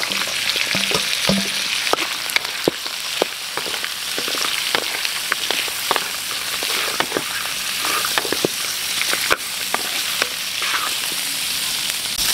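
Beef bones sizzle steadily in sweet tea oil with ginger, garlic and onion, a dense continuous crackle broken by sharp spatters and pops, close and loud throughout with no talking.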